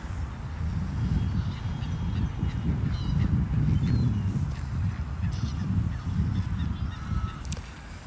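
Seagulls call with honking cries above a heavy, continuous low rumble of wind while a DJI Mini 3 Pro drone flies nearby. The cries are fairly distant and partly masked.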